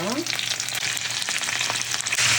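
Canned food from the pantry hits a hot pan for pasta, sizzling loudly and steadily with a brief higher squeal at the start and crackling frying throughout.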